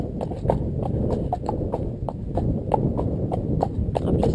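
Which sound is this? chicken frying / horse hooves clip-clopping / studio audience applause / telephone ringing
horse hooves clip-clopping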